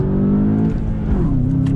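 A 2020 VW Jetta GLI pulls hard under throttle in first gear, its engine note climbing steadily and loud from inside the car, then dipping briefly before rising again, with no talking over it.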